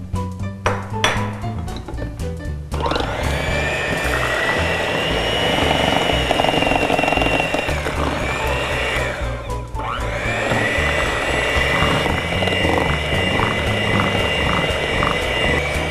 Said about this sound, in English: take your mixer. And we're gonna add 1 8-ounce cream cheese that's been softened,